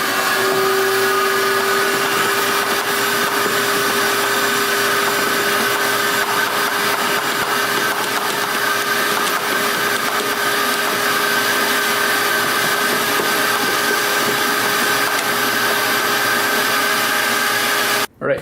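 The engine of a cheap quad ATV idles steadily, a loud continuous droning hum with a fixed pitch that runs unbroken before cutting off abruptly at the end.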